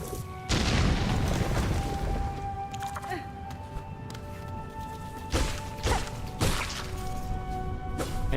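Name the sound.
explosive wall being hit in Hollow Knight Silksong video game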